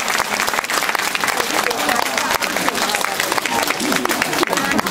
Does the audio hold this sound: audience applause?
yes